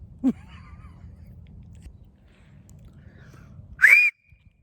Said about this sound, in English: Yes, I could whistle.